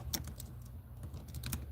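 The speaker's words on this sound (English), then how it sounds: "I'm typing in" Quick, light clicking of keys as someone types on a computer keyboard, a steady close-up patter of keystrokes for under two seconds with no speech.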